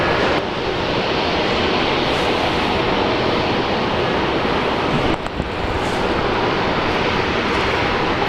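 A jet airliner on its takeoff roll from runway 19 right at Brisbane airport gives a loud, steady broadband engine roar that holds throughout with little change.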